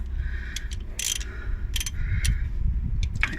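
A ratchet clicks in short bursts as nuts are tightened on a car's clutch slave cylinder, giving close, crisp mechanical clicking over a low steady background hum.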